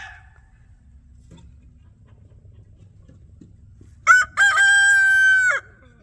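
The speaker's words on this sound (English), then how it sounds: "5 roosters out here." A rooster on a homestead lets out one loud, close crow lasting over a second, following several seconds of near silence with only faint low background rumble.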